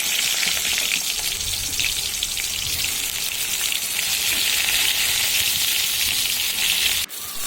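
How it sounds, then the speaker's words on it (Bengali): Pointed gourd (potol) pieces, rubbed with turmeric and salt, fry in hot oil with a steady, dense sizzle that runs unbroken and fairly close, ending in a brief knock near the end; no one speaks. "সেই পটলটা আমি আগে দিয়ে ভালো করে ভেজে নেব।"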